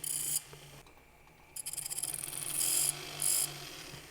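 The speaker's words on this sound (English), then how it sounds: "So now I'm starting to sharpen up those corners slightly" Metal filing sharpens the corners of a trillion-cut ring bezel in short, hissing rasping strokes that come in bursts with brief pauses, quiet and close.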